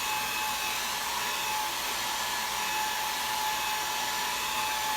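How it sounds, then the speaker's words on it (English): A blow dryer runs continuously at close range while drying paint on a decorative craft project, giving a steady, loud, even airy roar with a faint whine and no pauses. "let me just hit this with a blow dryer again"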